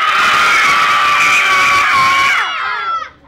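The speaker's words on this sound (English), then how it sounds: "I want you to scream as loud as you possibly can right now" A group of children screams as loud as they can at a skate park, a sustained shrill mass of voices that holds loud for over two seconds, then breaks up and fades out.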